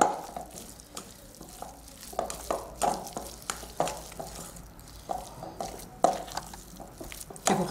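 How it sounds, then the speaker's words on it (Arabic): Cooled savory filling for Moroccan cheese-stuffed pastries being mixed by hand in a bowl, giving a steady run of soft stirring scrapes and squishy taps with occasional louder clinks, close and alone without talk. "غادي نخلط العناصر كلها مزيان"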